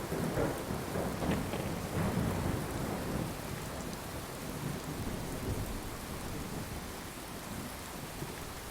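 Video game rain, Fallout 4, pours heavily and steadily with low rumbling thunder rolling underneath, loudest at first and then settling into a dense, even downpour.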